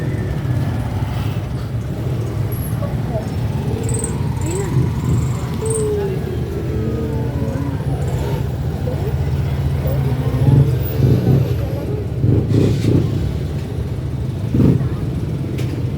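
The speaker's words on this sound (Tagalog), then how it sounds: "Traffic guys. Traffic. Super traffic." Steady road traffic at a lake shore in Biñan, Laguna before sunrise, a continuous low rumble of passing cars and motorbikes with occasional louder swells of engines, voices talking faintly over it.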